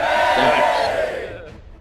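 A crowd in a tabletop role-playing session roars and cheers in one loud swell that fades away over about a second and a half.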